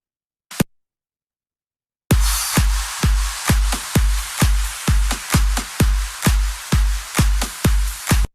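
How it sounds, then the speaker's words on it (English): Electronic EDM drum pattern with effects: a lone hit, a pause, then a steady run of punchy kicks with bright noisy layers, loud and rhythmic with no voices. "All of the drums, including some effects, sound like this."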